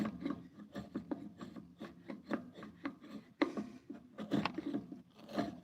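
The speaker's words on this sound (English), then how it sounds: "So I'm just pulling off material right now. Letting that chisel try to ride as flat as it can." A chisel pares the surface of a wooden board to take down a hump, giving quiet, repeated rasping scrapes in an uneven rhythm, close by and with no talking.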